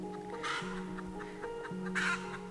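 A chicken on a farm with an Australian food forest clucks softly a few times at moderate distance, over a steady low hum and with no talking.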